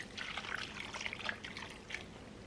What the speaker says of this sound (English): Next, I'm going to add my 3/4 cup broth